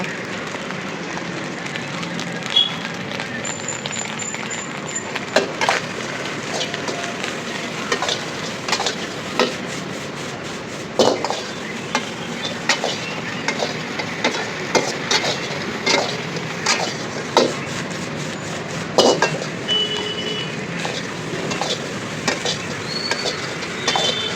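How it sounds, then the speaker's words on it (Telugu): Masala frying in a pan while being stirred, a continuous loud sizzle with frequent sharp scraping knocks of the spoon against the pan, steady throughout. "మసాలా ఎక్కువ వేయించుకోండి"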